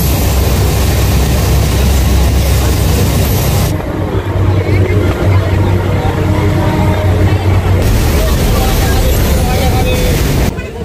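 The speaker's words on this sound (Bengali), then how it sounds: "ট্রেন ঢুকলো পাঁশকুড়া জংশন" A local train runs and pulls into Panskura junction, producing a loud, continuous rumble and rattle of the carriages. The noise dips and changes briefly mid-way, then holds steady.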